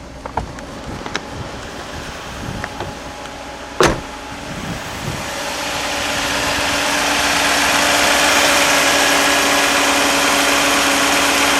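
Engine of a 1991 Mercedes-Benz 420 SEL idling right after an oil and filter change, a steady close hum with a few faint clicks early on, gradually swelling slightly louder and smoother toward the end.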